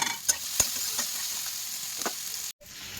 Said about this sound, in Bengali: আর ওই তেলে দিয়ে দিচ্ছি পেঁয়াজ।